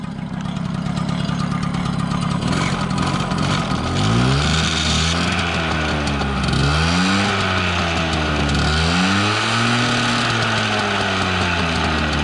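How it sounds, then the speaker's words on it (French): A 1987 MBK 51 Magnum moped engine runs close by after starting, with a steady buzzing idle that swells and dips in several revving surges over a continuous background. "Elle démarre, elle fait pas trop de bruit. On entend bien des tic tic tic là"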